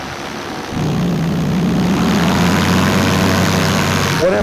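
A powered paraglider motor and propeller start up and settle into a loud, steady droning run, close by with a constant buzzing hum.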